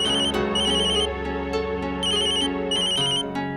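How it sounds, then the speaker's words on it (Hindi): A phone ringtone plays repeated bright electronic chime bursts in a steady pattern over a soft musical background, loud and close, with no talking. "सुनील का फोन है, एक मिनट।"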